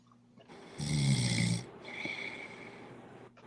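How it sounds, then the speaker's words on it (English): A person snores nearby, with one loud rasping inhale followed by a softer, breathier exhale over a low steady hum. "Somebody's snoring, yeah."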